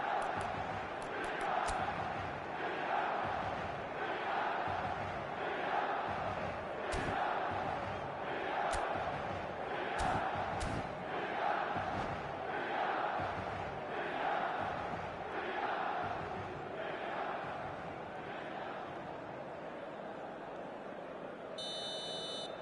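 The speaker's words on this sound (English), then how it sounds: "The stadium is full of noise and energy." A full stadium crowd chants and roars throughout a football video game match, with a rhythmic, pulsing chant that holds steady, loud and continuous, and then eases slightly near the end.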